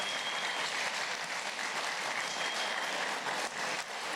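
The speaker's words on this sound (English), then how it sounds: "Let's give him one more round of applause." An audience at a storytelling event in Memorial Hall applauds a storyteller, giving dense, sustained clapping that fills the hall, loud and steady throughout with no talk over it.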